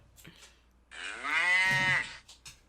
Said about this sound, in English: Doesn't that sound more like a cow?